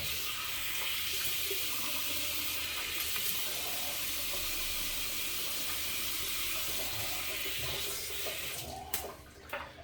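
Water runs steadily from a tap into a sink as a face is wetted before a shave, a continuous close hiss for most of the clip that ends with a few splashes and knocks.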